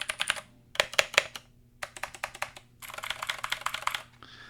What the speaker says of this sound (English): it is a clicky keyboard